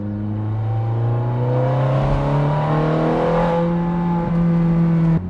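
Ferrari Scuderia Spider 16M engine pulling from first gear, a loud close-up rising engine tone with climbing harmonics that sweep upward steadily for about five seconds, then cut abruptly.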